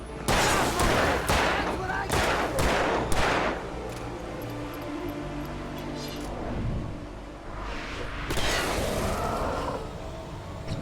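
Gunfire in the video game Alan Wake Remastered, several loud bursts of shots in the opening seconds and again near the end, over a low rumbling game backdrop with some talk.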